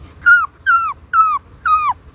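Four evenly spaced, high whimpering whines, each rising then sliding down, a voice imitating a puppy, close and clear.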